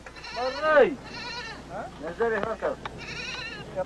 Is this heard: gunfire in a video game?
no